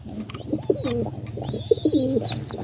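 Lahori cross pigeons coo in a close, steady series of soft, rolling calls repeating over a low background hum, with a faint higher tone drifting above.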